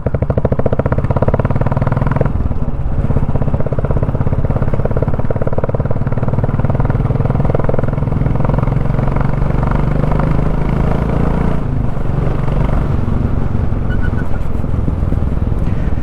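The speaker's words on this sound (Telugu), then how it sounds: "మనం రైడ్ చేసుకుంటూ వెళ్ళేటప్పుడు మాత్రం ఎక్కువ సౌండ్ అయితే వస్తూ ఉంది" A Royal Enfield Bullet 350 with a modified silencer and close to 80,000 km on it thumps loudly while being ridden, a close, continuous rhythmic engine beat that rises and dips with the throttle.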